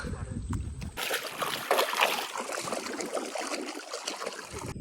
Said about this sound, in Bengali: আর এখনই নৌকা উঠে রওনা